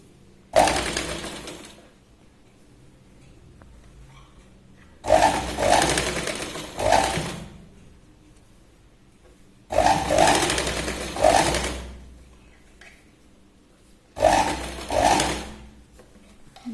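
A sewing machine stitches piping around the curved cup of a katori blouse in four separate runs, each a loud whirring burst of a second or two with quiet pauses between.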